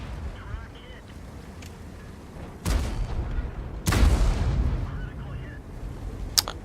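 Two heavy booming shots from a tank firing high explosive rounds in World of Tanks, each a sharp blast with a long rumbling tail, spaced about a second apart over steady engine hum.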